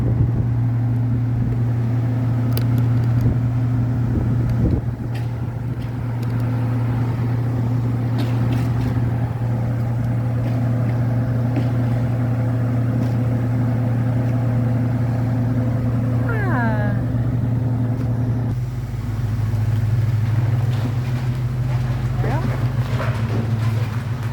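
The 1986 Ford Mustang with a swapped 302 V8 drones loudly and steadily on a dyno, a low constant engine hum with a brief rev and a shift in tone near the end, while people talk over it.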